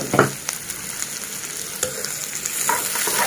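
Cabbage and other vegetables are stir-fried in a hot pan for egg fried rice, with a steady sizzle broken by a few sharp scrapes and clatters of a spatula stirring, close up and without talk.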